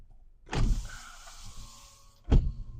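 A 2024 Honda Civic EX-L hatchback's power window motor whirs steadily as the glass rolls down inside the car, ending in a soft thump, followed by a second brief knock.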